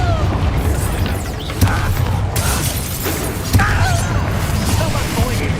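In Hogwarts Legacy, the Confringo fire spell bursts in two sharp explosive booms over a dense, continuous rumble of combat effects, with a voice speaking over the action.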